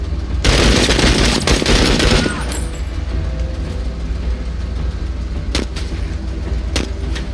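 Sustained automatic gunfire in the tactical strategy game Menace, a loud dense burst of rapid shots for about two seconds, then a quieter rumbling backdrop broken by two or three sharp single cracks.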